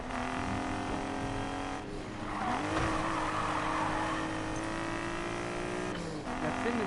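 A race car in Need For Speed Payback drones with a loud, steady engine whine that rises and falls through gear changes, with brief tire squeals over continuous road noise.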